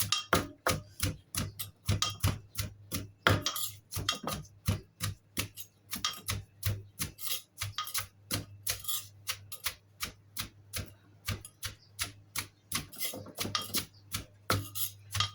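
Papaya salad being pounded with about thirty chilies in a mortar: steady, rapid knocking thuds with a pestle, repeated evenly throughout, loud and close, with no talking.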